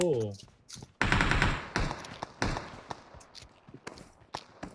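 Gunfire in the mobile battle-royale game PUBG Mobile: a loud burst of shots begins about a second in, followed by scattered single and short-burst shots of varying loudness, with a voice speaking over parts of it.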